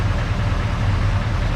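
A 1946 Chevy pickup engine idles with a steady, low rumbling drone that holds an even, continuous level throughout, close by and with no voices over it.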